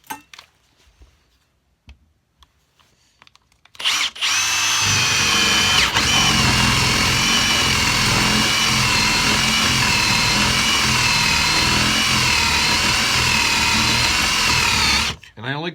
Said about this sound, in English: So I go with a Forstner bit that's larger than the diameter